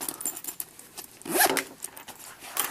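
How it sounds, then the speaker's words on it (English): Zippers on a PSP Media Center carrying case, about the size of a small backpack, are zipped in quick scratchy bursts, close and crisp, with a louder pull near the middle. "there's plenty of zippers to zip and unzip"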